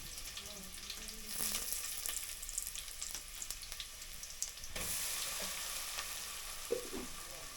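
Cumin, mustard seeds and garlic sizzle in hot oil as a tempering for jackfruit curry, a steady close crackle that swells louder midway, with faint utensil clinks near the end and no talk.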